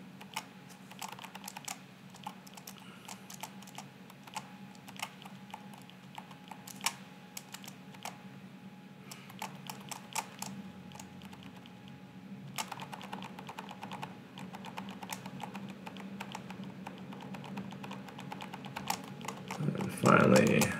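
Fingers type steadily on a computer keyboard while filling in setup fields, producing quiet, close, rapid clicking bursts with short pauses over a low background hum.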